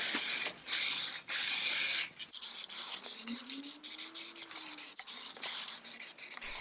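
Sealer sprays onto an antique 1700s wooden table in a steady close hiss, broken by short pauses between passes, with a faint tonal whine rising and falling underneath.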